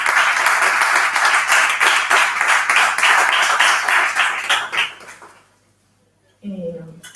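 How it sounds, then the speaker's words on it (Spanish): A poetry reading audience claps steadily and loudly for about five seconds to welcome the poet, then the applause fades to near silence before a voice begins. "a la que quiero que recibáis con un fuerte aplauso"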